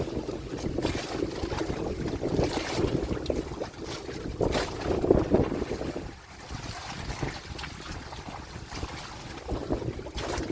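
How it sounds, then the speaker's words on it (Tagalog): Wind gusts and waves wash against a small boat out on Manila Bay, a continuous rough rumble that swells and eases, with no one speaking. "Pag umahangin dito, lumalakas yung alon"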